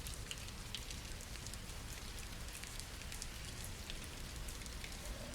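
Rain falls steadily, a soft, even hiss of dense drops that continues without breaks and carries no voices.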